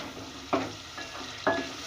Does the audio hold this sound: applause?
no